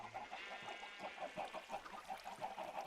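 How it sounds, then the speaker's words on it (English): Many Minecraft chickens packed into an automatic chicken crusher give a fast, repeating cluck and chatter, faint but steady, with no other sounds. "there's quite a few chickens in there"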